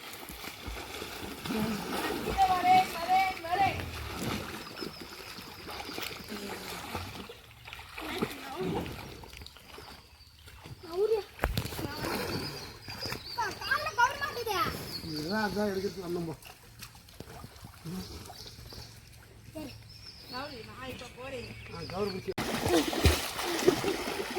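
Splashing water from kicking legs as people practise swimming in a village well, irregular splashes and sloshes throughout, with voices talking and calling nearby.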